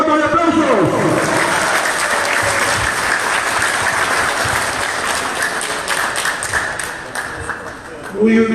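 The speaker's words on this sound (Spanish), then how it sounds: "con un fuerte voto de aplausos" Sustained applause from a crowd greeting a lawyer at an event in Arequipa, a dense steady clapping that holds loud throughout, dips slightly near the end and then swells again as a voice starts to speak.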